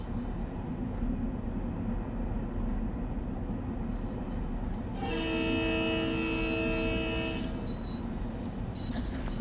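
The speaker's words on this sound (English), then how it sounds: "Definitely seems the sort of horn that you wouldn't get on this sort of train." A train horn sounds in Train Sim World 2 on the Harlem Line, a sustained multi-tone blast rising over the constant rumble of rolling rail cars and wheel noise, held for several seconds before cutting off.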